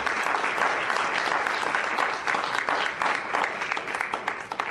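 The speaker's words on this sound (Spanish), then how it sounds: "Denle un aplauso al Señor por esa sangre" A church congregation claps during a sermon, a continuous burst of dense applause that fills the room.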